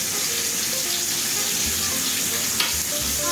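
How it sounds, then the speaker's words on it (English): Leg of lamb sears in a skillet over high heat, giving a steady, loud, close sizzle with a faint clatter near the end and no talking. "We're going to flip it over there. I can get that nice sear on it."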